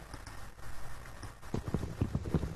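Horse hooves clip-clopping in a video game, a steady run of close, fairly loud hoofbeats that grows faster and heavier midway through, with no talking.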